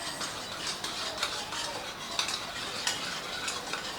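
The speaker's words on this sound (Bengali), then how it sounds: "তো এবারে সমস্ত উপকরণটাকে খুব ভালো করে মিশিয়ে নিতে হবে।" Yogurt being whisked with spices and sugar in a bowl for dahi bhindi, a steady close scraping and stirring with small clinks of a utensil, no voices.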